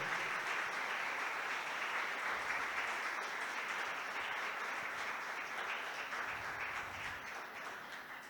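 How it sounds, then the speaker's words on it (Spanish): A church congregation applauding during a sermon, a steady, broad wash of many hands clapping for about eight seconds, fairly distant and tapering slightly toward the end. "Dale un aplauso a la presencia del Padre."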